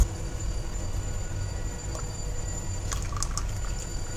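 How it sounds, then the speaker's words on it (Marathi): Water is poured over soaked wood apple (bael fruit) pulp to rinse it, a steady, close pouring rush lasting the whole stretch, with a few faint clinks near the end. "तर अजून थोडंसं मी पाणी घालून त्याला वॉश करून घेते"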